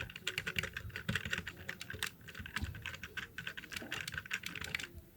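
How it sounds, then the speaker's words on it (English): A password is typed on a computer keyboard: rapid, uneven key clicks in quick bursts, close and crisp, with no voices. "So go ahead and type in the password you use."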